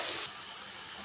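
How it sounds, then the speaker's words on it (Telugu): Water is poured into a pan of spiced egg curry mixture with red chilli powder, making a steady hissing splash that starts slightly louder and then settles into a continuous rush. "ఇందులోనే కొద్దిగా వాటర్ పోసుకున్నామండి."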